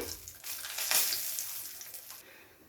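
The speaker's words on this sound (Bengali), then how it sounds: "এরপর এই তেলের মধ্যেই ফোড়নে দিয়ে দেবো দুটো শুকনো লঙ্কা, দুটো তেজপাতা, গোটা গরম মশলা" Dried red chillies, bay leaves and whole garam masala spices hitting hot oil in a pan, a brief bright hiss and crackle that swells, then settles into softer sizzling.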